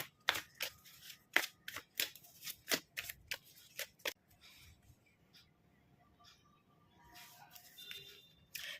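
A card is drawn and handled from a health tarot deck: a run of crisp, sharp paper snaps and flicks in the first four seconds, then quieter soft shuffling rustles near the mic with no talking.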